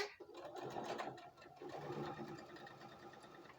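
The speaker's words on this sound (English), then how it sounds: "we are going to do what is called chain stitching" A sewing machine runs steadily, chain stitching pieced fabric blocks in one continuous pass, its fast mechanical whir close and constant throughout.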